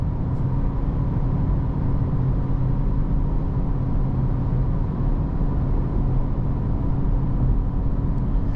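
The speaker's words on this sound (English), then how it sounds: "Take a listen to the sights and sounds of this Integra Type S behind the wheel on the highway" Cabin of a 2024 Acura Integra Type S cruising on the highway, a constant, even rumble of road and engine noise with a broad hiss like white noise, unbroken throughout.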